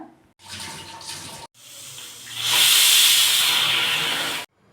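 Loud, steady hissing of steam rushing out of a pressure cooker cooking dal for sambar, starting in short bursts then swelling into a continuous jet before cutting off abruptly.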